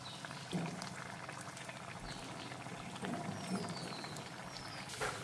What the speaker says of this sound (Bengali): লুচি ভাজা শেষ, আর তেলের পিঠাটা ভেজে নেব।